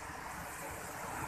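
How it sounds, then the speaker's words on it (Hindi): Water from Sabri Waterfall near Abbottabad tumbles down into a river, a steady broadband rush with no talking, heard continuously and fairly close throughout. "ये पानी उतरने का मंजर देखिए आप"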